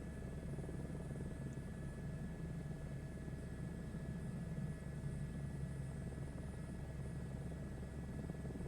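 A helicopter's engine and rotors drone steadily in Microsoft Flight Simulator 2024, a constant, dense hum and whine holding level throughout with no voices.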